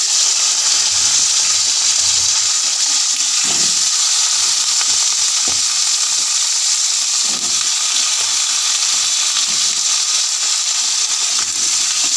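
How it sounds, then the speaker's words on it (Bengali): Potatoes frying in oil in a wok, a loud steady sizzle close by with a few soft stirring clatters, no voices. "এখন আলুগুলো ভেজে নেব কড়াইতে আবারও দু চামচ তেল দিলাম"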